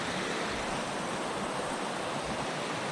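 A trail stream flows beneath a footbridge on the Bonneville Shoreline Trail, a steady, close rushing wash of water running unbroken throughout with no voices.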